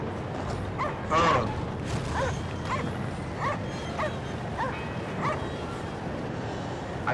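Spirit dog in the video game Cryostasis barking and yipping in several short bursts, moderately close over a murky ambient game backdrop, with a brief exclaimed voice near the start.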